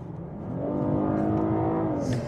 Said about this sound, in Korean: 이 사운드, 엔진 사운드 자체도 조금 더 스포티한 이 엔진 사운드를 느끼실 수가 있을 겁니다.